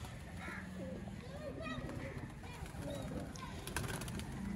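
Teddy breeder pigeons on a rooftop coo softly in a steady, close chorus, with bird calls scattered through and a faint voice or child sounds in the background.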